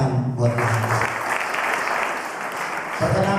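Church audience at a prison ministry service applauding for God, a dense, loud wash of clapping running throughout with voices mixed in at the start and end.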